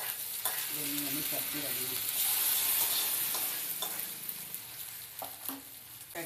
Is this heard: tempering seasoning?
yes